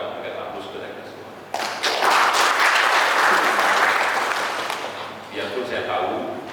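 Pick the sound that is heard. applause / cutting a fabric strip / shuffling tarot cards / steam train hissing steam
applause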